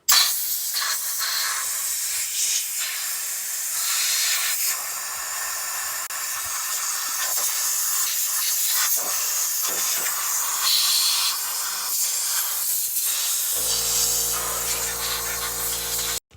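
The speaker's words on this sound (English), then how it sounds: "So we're going to blow all of this out and try to clean the dust out." Compressed air blasts black dust out of the clutch on a 2021 Polaris Ranger XP 1000 NorthStar Premium side-by-side, a loud, steady hiss that runs almost unbroken, with a lower droning tone joining near the end.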